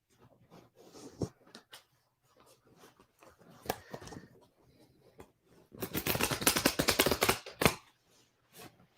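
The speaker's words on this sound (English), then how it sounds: "I'm going to shuffle these oracle cards" Oracle cards being handled and shuffled nearby, with scattered soft flicks building to a dense, rapid riffling burst before trailing off.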